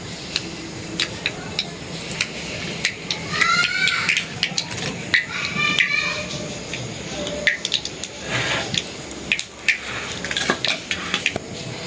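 Dried fish cooking in mustard oil with a bay leaf in a pan gives clattering metal and utensil knocks with a soft sizzle underneath, steady and close.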